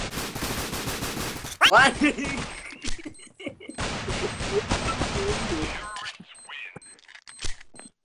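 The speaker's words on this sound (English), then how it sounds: "He shot his entire round and didn't hit one." Gunfire in the mobile shooter Critical Ops, played in a team scrim: rapid automatic bursts and scattered single shots come in fast clusters, with players talking over voice chat between and over the shooting.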